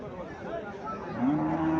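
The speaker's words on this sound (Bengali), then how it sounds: "এখানে একটা গাভী দেখা যাচ্ছে, কাস্টমার গাভীটা চাইতেছে।" A cow lows at a livestock market in Comilla where Haryana and Sahiwal cattle are sold, a single drawn-out moo rising near the end over a steady background murmur.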